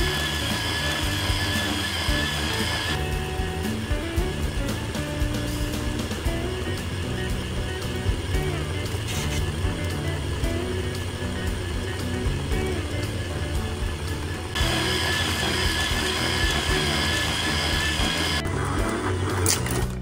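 A 3D printed filament winder spins steadily, its small motor whirring in a continuous even drone with a slight change in tone partway through, close and unbroken with no talk.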